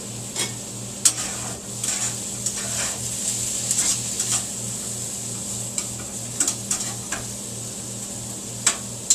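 Onion frying in a pan sizzles steadily, with occasional sharp clinks and scrapes of stirring scattered across it and a low hum running underneath.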